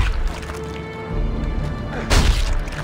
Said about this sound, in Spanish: Vale, tres disparos.